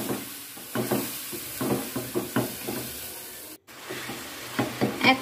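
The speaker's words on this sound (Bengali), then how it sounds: "এখন কিন্তু এরকম নাড়তে থাকতে হবে, না হলে সেমাইগুলো দলা পেকে যাবে।" Vermicelli (semai) with sugar is stirred in a pan, with a soft frying sizzle underneath and rhythmic scraping strokes of the spoon repeating close by, interrupted by a brief cut.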